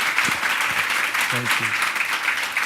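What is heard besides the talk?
audience applause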